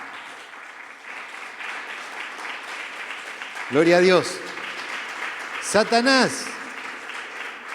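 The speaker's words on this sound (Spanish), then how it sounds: "Denle un fuerte aplauso al Señor" A church congregation applauds, a steady broad wash of clapping running throughout, while a preacher's voice speaks loudly twice over it.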